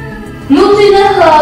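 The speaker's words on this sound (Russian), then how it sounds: "Можешь не мяукать, Никиса." A pregnant pet cat gives one loud, close meow that rises and then falls in pitch, heard alone and lasting about a second.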